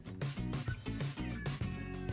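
A house cat meows several times in close succession, each call clear and near, over a busy background of other sound.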